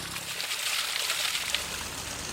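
Water from a waterfall splashes steadily as hair is washed under it, a continuous broad hiss and spatter, close and fairly loud.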